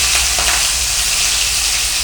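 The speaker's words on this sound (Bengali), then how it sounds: "এই দেখুন, মাছ কড়াইয়ে দেবো, ভালো করে দেখুন" Rohu fish frying in a smoking-hot wok of oil gives a steady, close, dense sizzle that holds evenly for about two seconds, with no talking.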